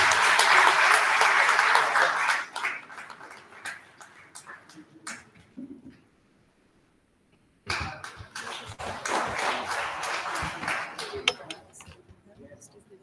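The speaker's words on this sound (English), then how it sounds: "Please give her a big round of applause." Audience applause at an International Women's Day 2023 event rolls loudly, tapers off into near silence, then surges up again and carries on steadily to the end.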